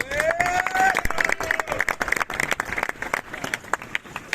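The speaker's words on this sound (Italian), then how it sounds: "un applauso a Chiano!" Close, uneven clapping from a crowd during the butchers' candelora procession in Catania, with whistles and scattered voices rising over the rhythmic claps.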